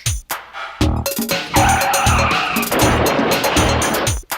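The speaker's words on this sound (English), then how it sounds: "car, you just heard it. The car got its own track." Car sound effect isolated on its own track from the multitrack recording, loud close engine revving and tire squeal over rhythmic thumping bursts, with no voices.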